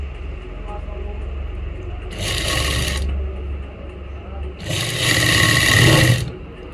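A sewing machine stitches pleats into a salwar in two bursts, a short run followed by a longer one, with steady low background hum between them.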